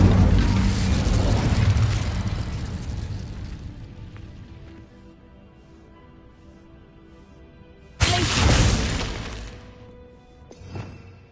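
An Incendio fire spell cast in the PS5 game Hogwarts Legacy: a loud, broad whooshing burst that fades over several seconds, then a second sharp burst near the end with a brief crack after it.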